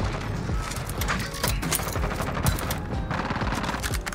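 Rapid automatic MP5 fire in Modern Warfare, dense bursts of sharp shots with mechanical clatter running almost continuously, loud and up close.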